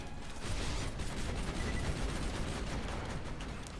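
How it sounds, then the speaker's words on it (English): Grenade explosions and gunfire in Borderlands 2 form a dense, loud, continuous barrage of blasts and crackling shots with no clear gaps. "Stop throwing grenades at me"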